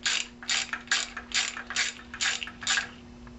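A hand ratchet clicks in quick repeated bursts, about seven strokes in a steady rhythm, close and clear, while a 302 engine fuel pump from a 1968 Mustang is taken apart.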